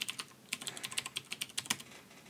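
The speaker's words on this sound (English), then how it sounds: "I'm going to type in admin. Password." Fast keystrokes on a computer keyboard as a password is typed at a login screen, a close, crisp run of separate key clicks with short pauses, no voices.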